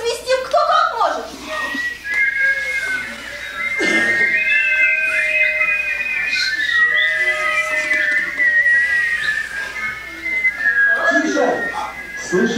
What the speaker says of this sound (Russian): Давайте посвистим, кто как может.